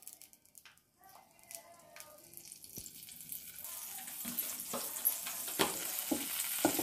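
Chicken fries in butter in a pan for malai kabab tikka, starting quiet and building into a crackling sizzle, with scattered clicks and scrapes of stirring layered over it.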